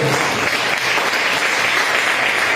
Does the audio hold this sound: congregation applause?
yes